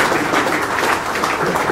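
Audience applause at a project management conference, a dense, steady wash of clapping from many hands, loud and continuous for the whole moment.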